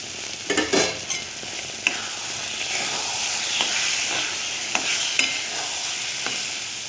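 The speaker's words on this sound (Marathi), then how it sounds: "दोन मिनिट फ्राय करायचं." Green brinjal bharit with salt, garam masala and coriander fries in a pan, giving a steady loud sizzle and hiss with a few stirring scrapes early on, close up and without voices.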